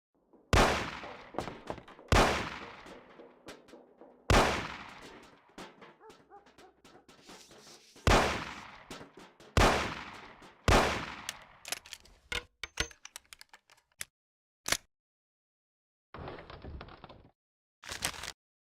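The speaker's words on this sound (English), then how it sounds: "Let's see how you handle a gun. Shoot the cans off of the table." Gunshots fired at cans on a table in the video game Mafia, a series of loud, sharp bursts spaced a second or two apart, then several quicker cracks, a short gap and a brief final burst.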